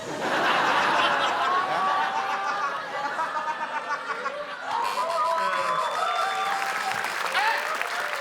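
Audience applause rolls steadily through a comedy quiz show, mixed with snickers, chuckles and scattered laughter from the crowd, with brief lulls before the clapping swells again.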